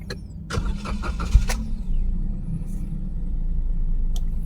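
A Daihatsu Sigra car engine is cranked and starts with its check-engine light on, giving a short burst of starter clatter followed by a steady low idle rumble, close by with no talk.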